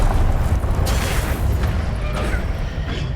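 A Confringo fire spell in Hogwarts Legacy bursts with a loud, close blast, a rumbling explosive roar that stays dense and heavy for the whole stretch with no voices.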